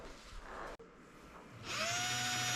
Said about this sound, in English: it's good to drill a pilot hole in these wood frames before you screw the D hooks in